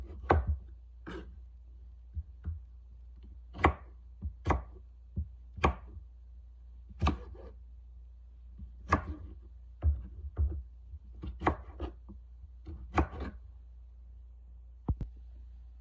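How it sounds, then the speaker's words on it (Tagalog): A knife chops okra on a cutting board in irregular, close taps, some strokes sharper and louder than others, over a low steady hum with no speech. "Ingat lang kayo sa paggagayat."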